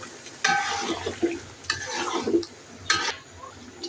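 Chicken is stirred into fried biryani masala in a pot: bursts of wet scraping and clattering from the spoon against the metal over a soft background sizzle, close by and without speech.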